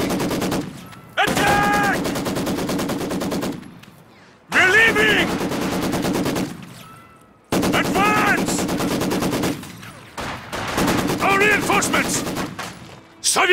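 Company of Heroes 2 machine gun fire comes in four long, rapid, loud bursts separated by short pauses. Shouted voices carry over and between the bursts.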